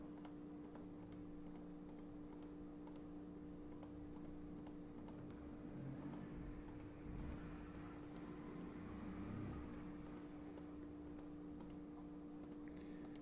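Soft, evenly spaced computer mouse clicks repeat in small groups while points are placed around an urban area on a map. The clicks are faint and dry over a low background hum, with no speech.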